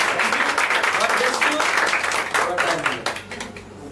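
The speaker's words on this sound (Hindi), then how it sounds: "यीशु के नाम से ताली बजाकर धन्यवाद" Steady applause from a congregation at a Sunday church meeting in Mumbai, dense clapping throughout that thins out toward the end, with some voices mixed in.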